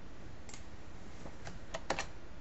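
Keys clatter on a computer keyboard in a quiet room while a command is entered during standalone server setup, scattered taps building to a quick cluster of strokes near the end, no voices.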